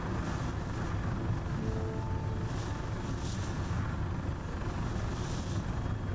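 An aircraft flies in the video game ARMA 3, giving off a steady, droning engine and rotor hum that holds at an even, moderate level without a break for about six seconds.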